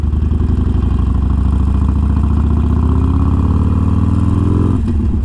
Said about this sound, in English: That idle sounds so amazing.